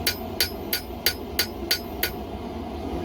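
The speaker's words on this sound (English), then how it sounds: "Hammering in the bevels" Seven sharp, evenly spaced hammer blows ring out as knife bevels are forged at the anvil, each strike a bright metallic clang over a low steady background hum, then the blows stop.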